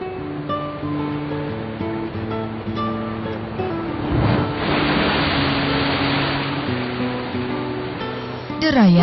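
Surf washing onto the Jakarta seashore makes a steady broadband wash that swells into a louder crash midway, with tonal music or voices running underneath throughout.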